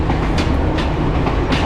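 An Omi Railway train in Shiga, the old Gachakon train, rattles and clatters loudly from on board, its wheels clicking in a regular rhythm over a constant rumbling roar, with no talking.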